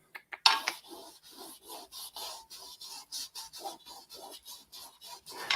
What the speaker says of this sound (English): As I'm spreading it out onto the canvas and sort of scrubbing the color in